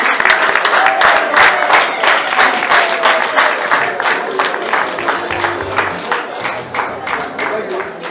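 An audience claps steadily and loudly throughout, a dense wash of applause with voices calling out over it.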